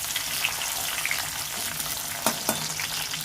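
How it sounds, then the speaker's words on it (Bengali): Cashews and raisins fry in hot oil with a steady, loud crackling sizzle filling the whole span, plus a couple of sharp scrapes as they are stirred in the pan. "এবার ওই তেলের মধ্যে আমি কাজু কিশমিশটা দিয়ে দিলাম"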